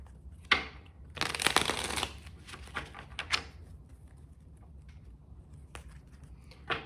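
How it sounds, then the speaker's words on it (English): Tarot cards being shuffled in quick papery bursts, with a dense riffle near the start and scattered softer flicks and taps afterward, close and fairly quiet with no talking. "So let's get a good shuffle."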